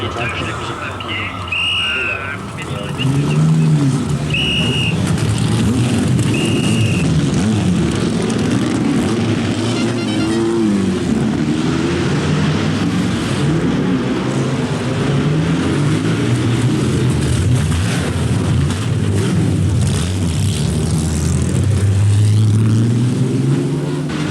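Vintage Grand Prix racing cars, Connaughts and Maseratis, at the Monaco Grand Prix, growl deeply and steadily with rising revs, loud and close throughout, with voices talking faintly over the engine noise.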